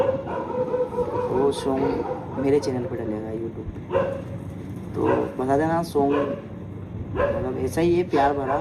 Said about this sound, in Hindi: तो कुत्ते भौंक रहे हैं यार